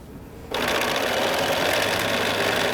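A sewing machine stitching quilt blocks starts up after a brief quiet moment, then runs at a fast, steady whirring chatter, close and loud, to the end.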